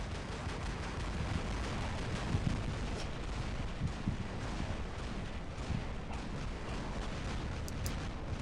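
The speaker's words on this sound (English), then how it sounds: "Just shooting everything that moves over here." Robot weapons, including a Gally, firing nonstop in a video game, a dense continuous rumble of shots and blasts held at a steady moderate level throughout.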